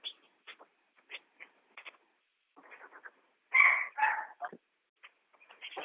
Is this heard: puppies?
yes